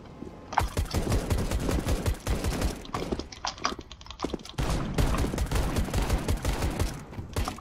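Rapid pistol shots in the first-person shooter CS:GO, a dense burst of sharp cracks running through most of the stretch and dropping out briefly near the middle before resuming, loud and close with no talk.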